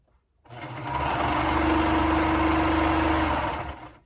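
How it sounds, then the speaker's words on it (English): A sewing machine stitching along the long edge of a fabric cuff, running in one steady, close, loud burst of rapid mechanical whirring for about three seconds before stopping. "I know for my cuff I need to sew along this long edge here, so I'm going to sew that"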